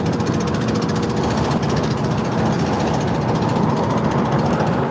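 A 2000 Dodge pickup with a leaking exhaust manifold gasket makes a loud, fast, steady ticking against a dense engine rumble throughout, with no talking.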